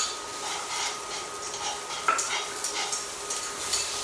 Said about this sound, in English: In go the carrots.